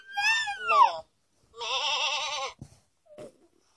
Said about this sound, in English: The lamb is a baby sheep.